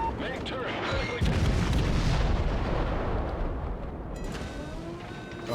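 Heavy naval gunfire in the World of Warships game, a deep booming artillery rumble that swells and sustains over several seconds, dense and loud, with low explosion tails.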